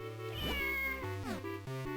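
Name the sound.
cat meowing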